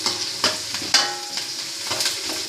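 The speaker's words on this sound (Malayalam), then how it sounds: "2 തണ്ട് കരിവേപ്പില നമ്മൾ അതിലേക്കിട്ട് ഒന്ന് ഇളക്കുകയാണ് നമ്മൾ." Shredded cabbage and two sprigs of curry leaves get stirred in a hot pan for a Kerala cabbage thoran, with soft scraping strokes and a few sharper clacks over a light, steady sizzle.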